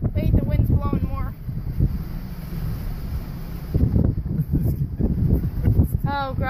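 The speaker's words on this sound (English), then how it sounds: "Wait, the wind's blowing more." Strong Hurricane Matthew wind roars in Camden County, North Carolina, buffeting the microphone with a loud, continuous broadband rush, while people talk excitedly over it at the start and end.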